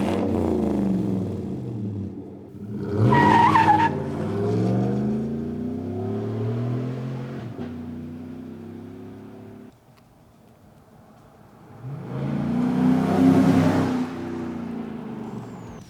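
A 2014-or-newer Chevy Silverado pickup with a Corsa single-side dual-exit sport cat-back exhaust drives down the road, its deep engine rising in a loud rev, settling, then dropping to a quiet idle before surging again in a second strong acceleration.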